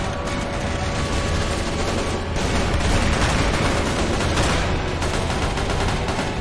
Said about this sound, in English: I think mindlessly firing into them will be enough.